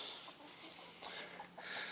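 Backyard hens in a coop, including Asian blue, ISA brown and Buff Orpington breeds, cluck softly in short, scattered bursts against a faint, steady background.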